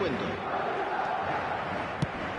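A stadium crowd in eFootball 2023 roars after a goal, a steady dense wall of cheering with one brief thump near the end.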